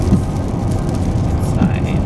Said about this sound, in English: Of course it's rain, right when we want to be on that pretty clouds.